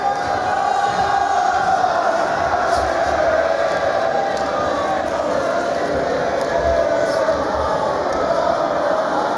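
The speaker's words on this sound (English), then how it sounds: "Crowd in great voice here." A boxing arena crowd in Edinburgh roars steadily throughout, a dense, unbroken wall of cheering and shouting that sounds large and fairly loud, with a commentator's voice faintly woven in.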